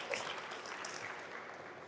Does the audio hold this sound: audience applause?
yes